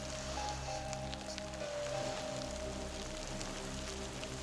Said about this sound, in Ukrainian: Це під камнями струмок, напевно.